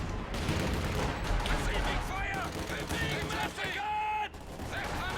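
Rapid bursts of machine gun fire from a Company of Heroes 2 match crackle loudly and continuously, mixed with other battle noise and someone talking over the action.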